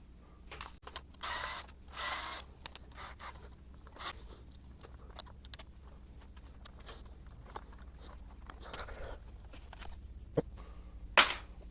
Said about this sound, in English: first thing I'm going to do is take these 4 screws